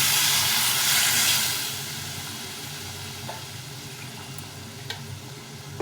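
Boiled water poured into a pan of bata fish curry with potatoes, a loud rushing hiss and steamy sizzle that fades after a second or so into a softer simmer with a few light clinks.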